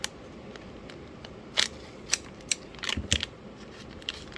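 Scissors snip into plastic packaging holding ESP32 and ESP8266 boards, a few sharp close clicks and cuts scattered over a few seconds with a brief cluster of crinkly rustling, no talking.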